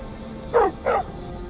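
Two quick, moderately loud dog barks from a dog in the video game Skyrim Special Edition, spaced about a third of a second apart over a steady low ambient background.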